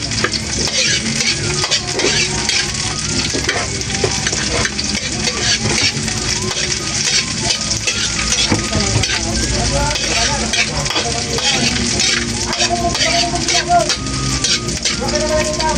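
Ingredients sautéing in a pan for ginataang papakol, a dense continuous sizzle with frequent scraping stirs throughout, close and loud, with occasional voices faintly underneath.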